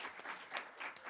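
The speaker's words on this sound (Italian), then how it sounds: "dando un applauso" Audience applause at a cultural festival presentation, faint and brief, with a steady patter of clapping hands.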